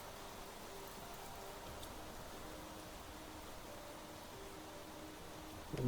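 Rain falling in the survival video game Planet Crafter makes a steady, even hiss that holds at a moderate level throughout, with no voices over it.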